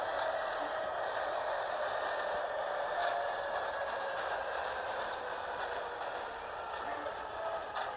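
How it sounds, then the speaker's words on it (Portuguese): Steady rumble and hiss of a train in a video game, continuous and fairly loud throughout, with a broad mid-range drone and faint clanks but no speech. "parou muito rápido o trem"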